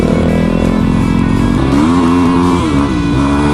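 A motorcycle engine revs hard and loud up close during a wheelie, its pitch climbing and wavering over a few seconds without any talking.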